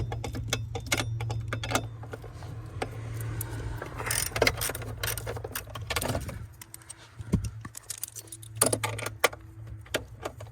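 Metallic clinks and ratcheting clicks from a wrench working a nut loose on a stud inside a 2015-2018 Subaru Outback 2.5i, coming in irregular bursts close by over a low background hum.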